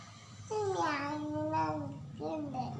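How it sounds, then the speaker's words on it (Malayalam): A cat's drawn-out meows, rising and falling, sound close by in a quiet room with faint background hum. "ആ പൂച്ച കരയുണ്ട്."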